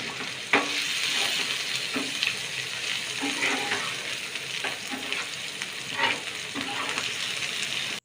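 Capsicum frying in a pan with salt, a constant sizzle under repeated scraping stirs of a spatula, close and moderately quiet, no voices.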